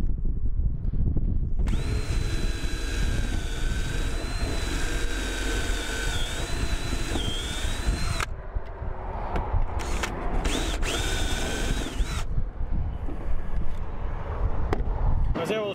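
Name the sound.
screw being driven in to mount the new sign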